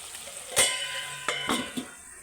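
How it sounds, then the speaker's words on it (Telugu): Onions with salt stirred in a hot pan while cooking egg and drumstick stew, giving soft sizzling with a few sharp utensil scrapes and clinks against the pan, heard alone and fairly quiet. "మిర్చి కొంచెం వేగాక ఆనియన్స్ వేసుకుందాం. వేసుకొని కొంచెం సాల్ట్ వేసి కలిపి మూత పెడదాం."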